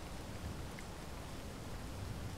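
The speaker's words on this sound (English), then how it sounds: "Yes, and it's raining. It's raining here." Rain falls steadily in the Space Engineers video game, an even hiss of broadband patter with no distinct drops standing out and no voices over it.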